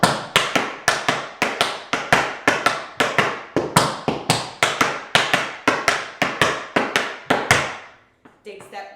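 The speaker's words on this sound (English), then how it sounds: "Now you have dig step, dig step, dig step, dig step, spank step, spank step." Tap shoes strike a hard floor in a quick, even run of crisp, loud clicks, dig steps and spank steps in steady rhythm for about eight seconds before stopping.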